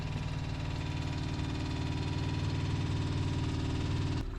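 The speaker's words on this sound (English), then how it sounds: "So even though I would definitely prefer to be sailing, motoring on a calm day like this, aside from the noise," A sailboat's engine motors steadily on a calm day, a constant low, throbbing drone close by with an even rhythm throughout.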